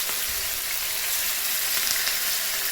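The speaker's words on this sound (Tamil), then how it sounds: "எண்ணெய் காஞ்ச உடனே நம்ம மசாலா போட்டு பிணைஞ்சு வச்சுருக்க சிக்கன் எடுத்து போட்டுடலாம்." Masala-marinated chicken fries in hot oil in a pan, giving a dense, even sizzle that stays close and steady throughout without any talking.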